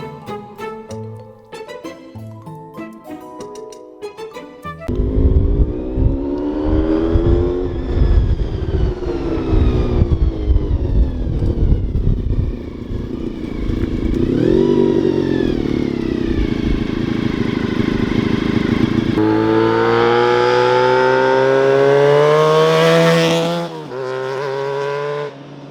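A heavily modified Honda VFR motorcycle pulls away after a short musical intro, its engine loud and close as it rises and falls through the gears, with a higher-pitched stretch near the end before it cuts off.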